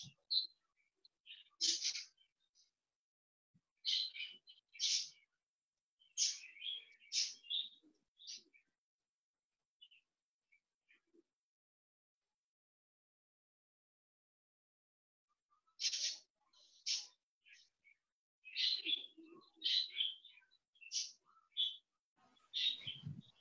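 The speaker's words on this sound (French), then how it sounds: "Je n'entends que les oiseaux." Birds singing outdoors, faint bright chirps and tweets arriving in short clustered bursts, with a long quiet gap in the middle before another lively flurry of calls.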